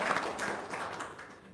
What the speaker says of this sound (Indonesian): Tepuk tangan dong Bu Prapti